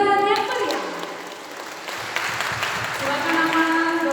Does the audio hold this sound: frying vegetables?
no